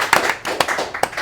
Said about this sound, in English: Someone claps, thank you.